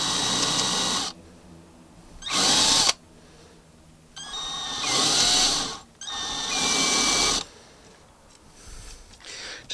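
Drill countersinking a hole in a Fender guitar neck for a threaded insert, loud close bursts of whirring drill spin separated by quieter gaps, about four runs in a row.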